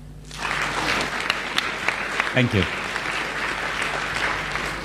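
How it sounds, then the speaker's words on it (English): An audience at a panel discussion on prosecuting 9/11 war crimes bursts into sustained applause, a steady wash of many hands clapping. A speaker briefly says a few words over it. "Perhaps we all deserve a clap."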